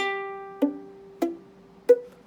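A ukulele chord picked string by string with the fretting fingers not pressed down hard enough, four muted, dull plucks that die away quickly instead of ringing, close with no voices.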